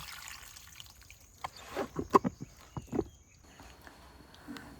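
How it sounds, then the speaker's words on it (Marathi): Water trickles and splashes in short, uneven bursts as it is poured at the root of a chikoo tree outdoors, fairly quiet, with a few louder splashes in the middle. "हे झाडाच्या मुळात चिकूला आम्ही हे पाणी ओततो आहोत"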